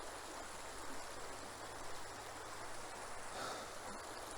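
A small creek flows steadily outdoors, its broadband rush of water continuous and fairly close, with no talk over it.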